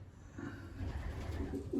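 Racing pigeons in a breeding loft coo softly in short low bursts, a few overlapping calls near the end against a quiet background hum, hungry birds with no voices heard.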